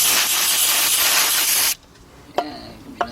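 Aerosol spray can hissing steadily onto a brake caliper on a 2000 Nissan Maxima for nearly two seconds, then cutting off, followed by a few faint metallic clinks from tools.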